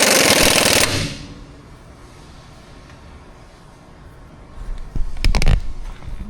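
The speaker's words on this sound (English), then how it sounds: "So let's tighten down all of our nuts." A power tool tightens nuts on a car's front end in a loud opening burst of about a second, followed by quieter shop noise and then a cluster of sharp, rattling hits near the end.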